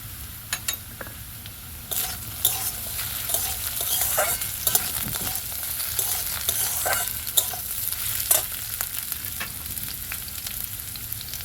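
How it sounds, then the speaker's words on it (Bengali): Chopped carrots added to frying potatoes for flattened-rice pulao and stirred, a steady hot sizzle broken by frequent clicking and scraping strokes of a spatula against the pan, growing busier after the first couple of seconds. "দিয়ে দেবো গাজর কুচি"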